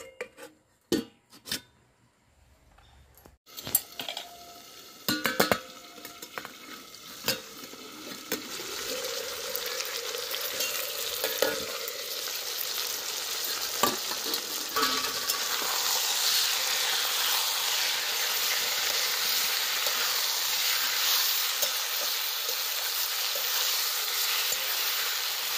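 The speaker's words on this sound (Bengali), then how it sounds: "আমি মাংসটা ভালো করে নাড়াচাড়া করে নিয়েছি।" Chicken frying and being stirred in a pan for a tarka chicken curry, starting with scattered scrapes and clanks of a utensil against the pan, then settling into a steady, close, loud sizzle that fills the rest, no talking.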